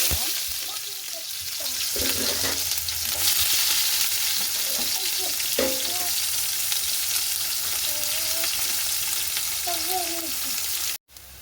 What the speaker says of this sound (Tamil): இப்போ எங்களுக்கு எண்ணெய் நல்லா சூடாகிட்டு நாங்கள் வட்டி வச்சிருக்கிற வெங்காயத்தை முதல்ல போ